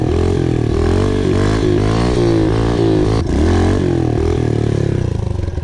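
Loud, close engine of a pitbike held at high revs while wheelieing, a buzzing drone that rises and dips with the throttle and never lets up.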